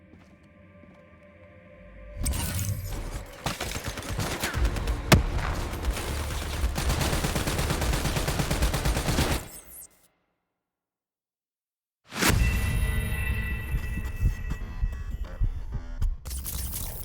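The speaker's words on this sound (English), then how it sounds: "You're taking heavy fire!" Heavy gunfire in Call of Duty Black Ops III: dense bursts of shots and booming impacts roll on loudly for several seconds, break off into silence, then resume just as intensely.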